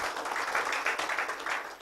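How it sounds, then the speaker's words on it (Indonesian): Steady audience applause at an Indonesian business presentation, dense and even throughout, with no speech over it. "Tepuk tangan dulu untuk Anda ya."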